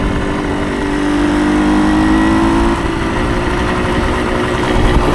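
A 1975 Suzuki TS125 motorcycle engine idles steadily close by, a quiet, even mechanical hum with a soft exhaust note and no revving, continuing alone without voices.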